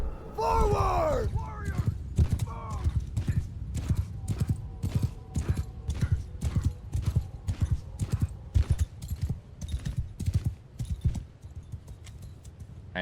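Cavalry horses in Mount & Blade 2 Bannerlord, a close, steady rhythm of galloping hoofbeats pounding across the ground over many seconds, with a horse whinny near the start and a faint voice.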